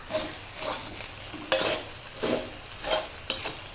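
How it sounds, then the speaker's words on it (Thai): Rice for a vegetarian grain fried rice is stir-fried dry in a pan, with a soft sizzle broken by repeated scraping strokes about every half second to second, close and moderately quiet. "ค่ะประมาณนี้นะคะให้ข้าวผัดให้ข้าวแห้งๆเลยค่ะ"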